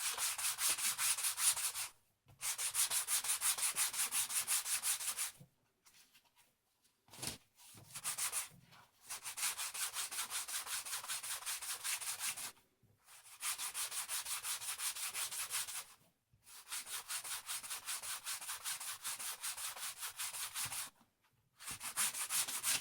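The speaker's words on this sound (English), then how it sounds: "Then you go to your medium grit sandpaper and you go over that a couple of times." Medium-grit sandpaper rubbed over a Unitrack model railway piece in repeated long strokes, a steady gritty scraping that runs in several sustained passes separated by brief pauses, close and alone without talk.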